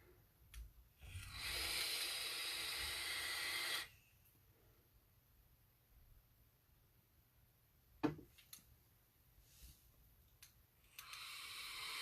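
A Smok Devilin vape kit set to about three-quarter airflow draws with a steady airy hiss for a couple of seconds, then a quiet exhale, a faint click and another soft draw, close and quiet.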